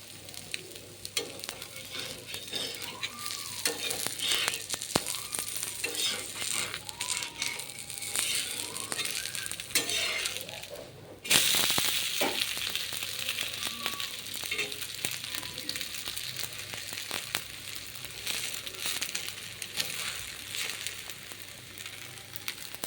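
Wheat dosa frying in oil on a pan, a continuous crackling sizzle with a brief dip midway as it is flipped, then the sizzle resumes, steady and close.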